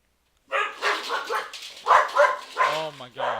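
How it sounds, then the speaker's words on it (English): Several pet dogs barking indoors, close and loud, in a run of sharp barks with a few higher yips and whimpers, no speech over them. "My dogs, my dogs, my dogs. Y'all can probably hear them."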